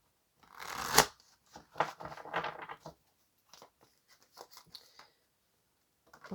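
Tarot cards being shuffled close by: a loud riffle, then a run of softer rustling, sliding and flicking of the deck, with brief pauses and no voice.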